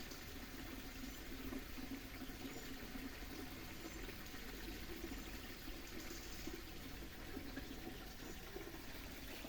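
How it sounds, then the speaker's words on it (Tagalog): Steady rushing, babbling water flowing continuously and fairly close, with no voices, a constant broadband wash throughout. "Ganda ng lagaslas ng tubig mga guys, no?"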